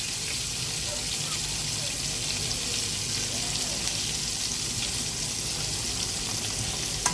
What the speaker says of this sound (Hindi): मीडियम फ्लेम पर फ्राई कर रही हूँ मच्छी को